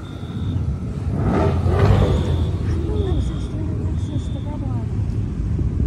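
Modded cars, including a Corvette, roll out of a car meet one after another, their engines rumbling steadily at close range while people chat over them.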